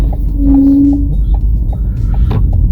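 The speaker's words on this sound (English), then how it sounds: "That was the old clutch pedal, I believe, making that scraping sound." An old clutch pedal in a car gives a brief, squeaky scrape. The scrape sits over a loud, constant rumble of the engine and road.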